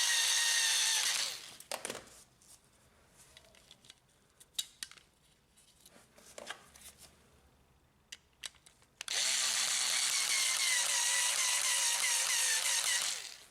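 A power screwdriver drives two screws into a Panasonic drum unit, with two loud whirring bursts, one at the start and one at the end, separated by quieter clicks and handling of plastic parts.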